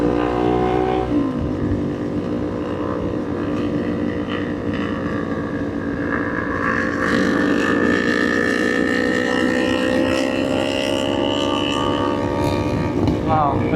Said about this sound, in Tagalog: sobrang ingay ng mga motor na to.